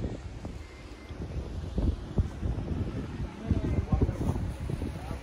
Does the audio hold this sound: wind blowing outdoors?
yes